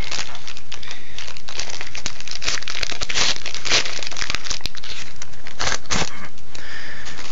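My Little Pony trading card packs being torn open close up, loud crinkling and ripping of foil wrappers in irregular bursts with sharp crackles, no voice heard.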